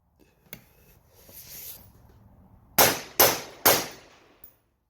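A Steyr AUG rifle with a suppressor, its gas system set too high for suppressed use, fires three sharp shots in quick succession after a quiet stretch with faint handling noise.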